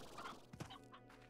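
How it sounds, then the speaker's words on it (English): Chickens cluck in the Slime Rancher video game, giving a few short, close clucks and squawks with a brief sharp burst near the middle. "I'm going to take all my chickens."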